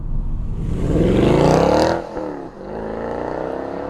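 A manual-swapped Mercedes C63 AMG with a 6.2-litre V8 climbs sharply in pitch as it revs hard, peaks, drops briefly on a gear change, then settles into a lower steady drone, loud and close.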